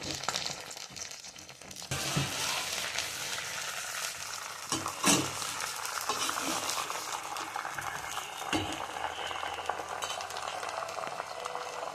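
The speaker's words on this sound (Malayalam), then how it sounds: "ഞാൻ മുളകും ചെറുതായിട്ടൊന്ന് വറുത്തെടുക്കട്ടെ" Green chillies frying in a pan for pickle, with a constant close sizzle and occasional stirring scrapes throughout.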